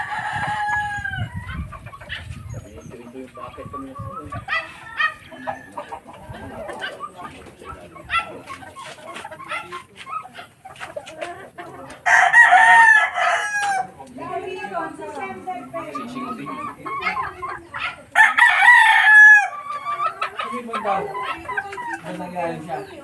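Two loud rooster crows ring out nearby on a rural farm, each lasting a couple of seconds, amid clucking chickens and intermittent talking.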